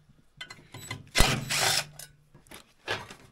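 A power tool removing bolts from the clutch of a vintage Polaris XLT snowmobile, short whirring bursts with one louder rattling run in the middle, close by, with faint shop background and no talking.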